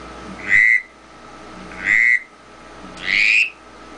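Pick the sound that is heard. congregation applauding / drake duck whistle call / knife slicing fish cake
drake duck whistle call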